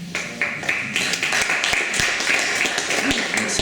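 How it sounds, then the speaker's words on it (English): Audience applause at a public debate in Waterbeach, a steady mid-distance clatter of many hands with sharper individual claps standing out and faint voices underneath. "Let's see if the applause continues."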